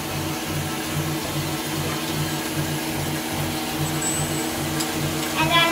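A stand mixer whips egg whites for a sponge cake while sugar goes in a tablespoon at a time, giving a steady close motor hum with a regular pulsing churn throughout.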